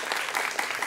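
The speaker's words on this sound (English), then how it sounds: "Big round of applause." A school quiz-duel crowd applauds both competing schools: a short, dense burst of many hands clapping, fairly loud and close, with no talking.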